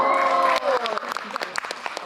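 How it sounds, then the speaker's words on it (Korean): Applause breaks out at a 2014 birthday party, brief and dense, with voices rising over the clapping and people talking as it tapers off. "결국에 박수 받으려고?"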